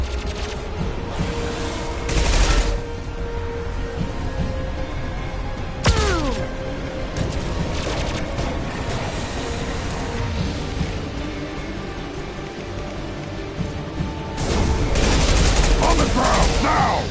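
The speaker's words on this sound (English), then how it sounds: "Taking heavy fire." Heavy gunfire in Mass Effect 2, a dense, continuous fusillade of rapid shots and bursts with a sharp crack midway and a louder surge of firing near the end.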